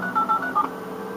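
Quick sequence of touch-tone phone dialing beeps in the Who Wants To Be A Millionaire 2nd Edition video game, several short clear tones in a rapid rhythm with no talking.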